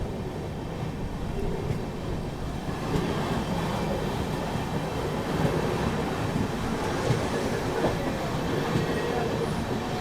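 A train rolls past the stationary Ahmedabad Patna Azimabad Superfast Express, a loud steady rumble with faint rhythmic clatter of wheels on rails.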